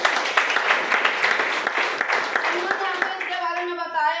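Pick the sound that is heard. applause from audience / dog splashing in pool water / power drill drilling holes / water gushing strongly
applause from audience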